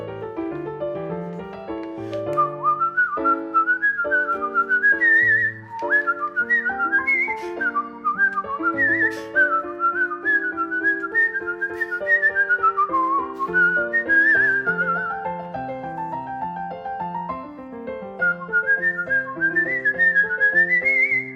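A person whistles a continuous, lively melody, loud and close, with steady pitched notes gliding up and down and only brief breaths between phrases; no talking is heard.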